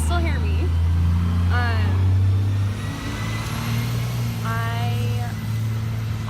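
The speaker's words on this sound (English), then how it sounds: "Oh, the traffic's getting a little loud," Loud road traffic rumbles past with a heavy low engine drone and vehicles accelerating. A person talks over the steady noise outdoors.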